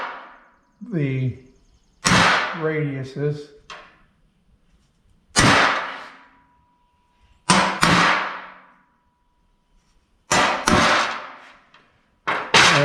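Several sharp metallic strikes of a hammer on a center punch marking metal for drilling on a Bucyrus Erie 10B deck, loud and close, with brief speech between them and ringing tails after each hit.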